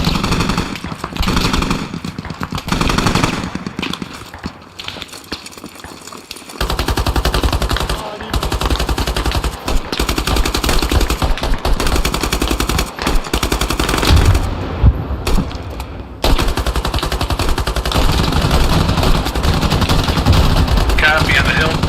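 Gunfire in the military shooter game Squad: loud, rapid machine-gun bursts and single shots crackling almost continuously, with voices talking over the shooting at times.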